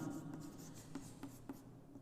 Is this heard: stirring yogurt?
no